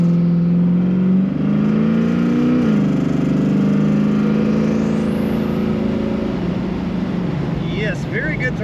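A 1971 Chevrolet Nova with an automatic transmission revs its engine several times, a loud, close, rising and falling roar that continues steadily throughout, with a voice talking faintly underneath.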